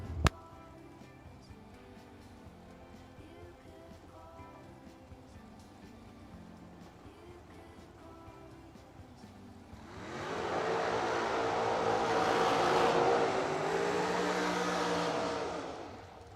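Door cars run a drag racing warm-up round: faint distant ambience first, then a loud roaring engine blast swells in for several seconds before tapering off.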